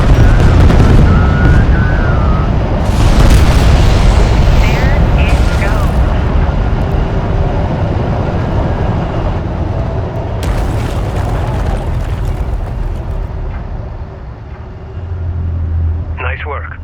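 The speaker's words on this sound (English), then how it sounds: "Pull back to a safe distance and initiate detonation." Explosive charges detonating in the Homeworld: Deserts of Kharak video game, loud rumbling booms that roll on over several seconds, layered with voices and a low engine-like drone.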